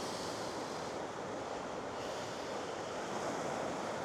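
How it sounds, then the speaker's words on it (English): Steady, broadband surf from ocean waves washing onto Thomas Beach in Uluwatu, Bali, a continuous full roar with some wind noise across the microphone and no voices. "So you have like a little secluded section of beach just in the back there."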